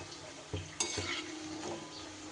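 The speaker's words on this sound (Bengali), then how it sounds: "মাঝারি আঁচে এগুলোকেও ভেজে নেব।" Rounded lentil batter fritters (rasbora) frying over medium heat in a wok, giving a soft, steady sizzle with a few light clinks of utensil against the pan; no talking.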